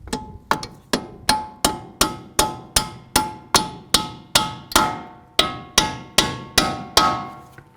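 A hammer taps the front strut bolts into a 2012-15 Chevy Cruze, about fifteen sharp metallic strikes in an even rhythm, close and ringing, with no talking.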